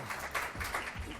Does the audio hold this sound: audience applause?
yes